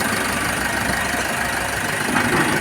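A car engine idles steadily at close range after an oil change and check-up, giving a smooth, even hum with a faint mechanical ticking and no voices.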